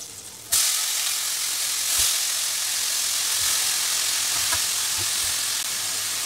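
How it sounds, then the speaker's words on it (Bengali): Chopped ash gourd drops into hot oil in a pan for a vegetarian Bengali dish with lentil dumplings, setting off a sudden loud sizzle that holds steady and close, with faint stirring knocks and no voices. "এটাকে ভেজে আমি এর মধ্যে এবার দিয়ে দিচ্ছি চাল কুমড়াটা"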